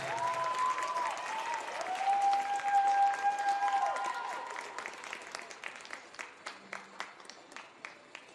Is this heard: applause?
yes